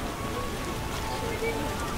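Steady rain in the video game The Witcher, in Wyzima's trade quarter, patters continuously, a dense hiss of drops on a surface, with a voice speaking faintly over it.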